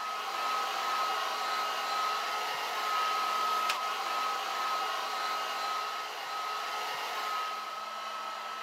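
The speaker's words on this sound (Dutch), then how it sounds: "Met de föhn kun jij alles wat koud was weer warm maken." A handheld hair dryer blows steadily and loudly for the whole stretch, a constant broadband whoosh with a faint whine running under it and no voices.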